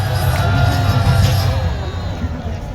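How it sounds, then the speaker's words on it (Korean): A large outdoor crowd at a political rally in Gwanghwamun, Seoul, applauds and cheers loudly in a dense, sustained roar with scattered shouts. "박수하겠습니다."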